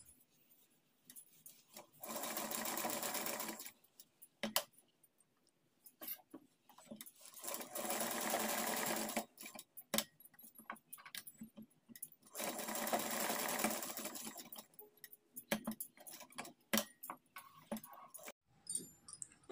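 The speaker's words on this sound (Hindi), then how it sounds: "अब हम इसकी स्टिचिंग करेंगे।" Sewing machine stitching a fabric sleeve, running in three sustained bursts of a few seconds each with short clicks and handling noises between them, close and clear with no talk.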